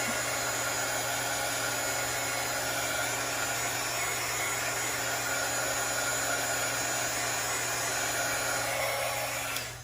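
A heat gun heat-sets ink on cardstock, giving a continuous loud fan whir and hiss held close for about ten seconds before cutting off at the very end, with no speech.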